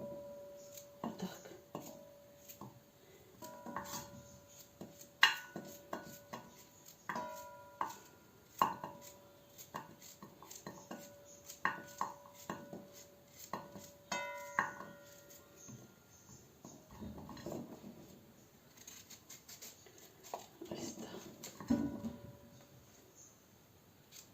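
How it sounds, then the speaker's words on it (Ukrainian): Zucchini chopped finely on a cutting board with a knife, quick irregular taps with kitchen clatter in the background, fairly faint, with occasional soft voices. "Ось так будемо нарізати дрібненько."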